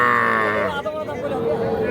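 A young bull calf at the Ambari cattle market gives a loud, drawn-out moo close by, with market voices chattering in the background.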